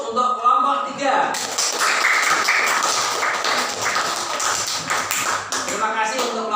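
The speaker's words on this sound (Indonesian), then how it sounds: "Sekali lagi beri aplaus untuk kelompok 3." Primary school class applauding a student group after a presentation in a classroom, a sustained burst of many close hands clapping for about four seconds, with a voice speaking before and after it.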